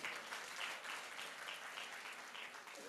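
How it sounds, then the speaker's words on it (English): An audience at a national newsroom contest clapping steadily, a faint, even wash of applause lasting a few seconds with no voices over it. "Let's clap for Divine Mercy."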